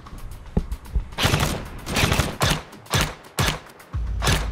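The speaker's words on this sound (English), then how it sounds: "Oh, they're shooting." Airsoft guns firing during an outdoor battle-royale-style game, heard as a series of sharp bursts and single pops at moderate distance, spaced irregularly across the stretch.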